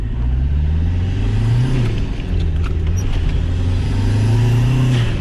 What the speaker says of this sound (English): we're boosting in second gear now